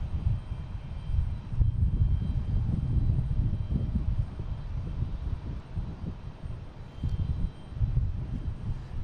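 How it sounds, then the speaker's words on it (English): An Airbus A321neo jet at Boston Logan International Airport gives a steady low rumble with a faint whine on top, loud and continuous throughout. "A321neo, flight 135 from Shannon"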